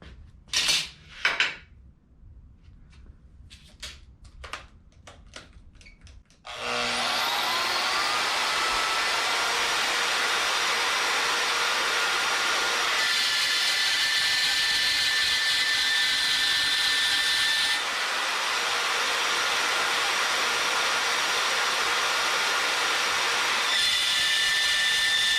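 A portable band saw cuts through quarter-inch steel: after a few sharp handling clatters, a loud, steady grinding whine of blade on metal runs continuously to the end, close and uninterrupted.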